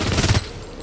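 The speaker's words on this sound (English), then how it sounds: "if you actually try to shoot with this type of SMG" A short, loud burst of rapid SMG fire in the shooter Blacklight: Retribution, lasting under half a second before a brief fading tail.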